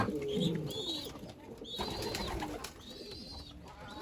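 Pigeons coo at a large pigeon farm, several soft repeated coos at close range with faint chirps and background bird calls.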